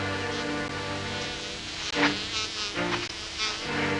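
A swarm of angry wasps buzzes loudly and continuously near a cave in the frontier wilderness, a dense droning whine that swells and wavers without a break.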